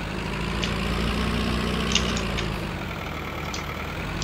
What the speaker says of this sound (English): I'm going to park this tractor up.